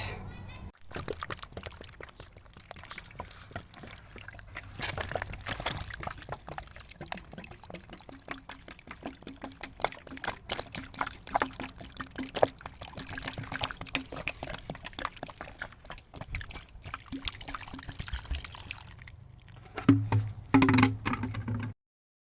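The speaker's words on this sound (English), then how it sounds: "So I'm going to soak it really, really well overnight." Water is poured to soak very dry garden soil, a steady trickling pour with scattered splashes that runs throughout and grows louder near the end.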